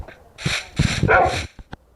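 A few sharp synthetic Minecraft dog barks, loud and close, followed by two short yips, with no talking.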